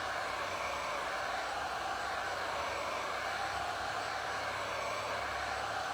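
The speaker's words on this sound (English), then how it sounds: "Has anyone tried a hairdryer for WoodUbend?" A hair dryer blows steadily and evenly at close range, heating a WoodUbend ornament during a craft project, a constant broadband whoosh with no talking over it.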